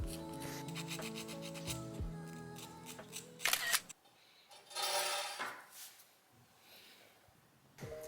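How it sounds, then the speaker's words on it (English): Sandpaper rubbed over a silver clay ring, working from low to high grit, gives close scratchy rasping strokes in uneven bursts with short pauses between them. "give it a final sand from low to high grit sandpaper"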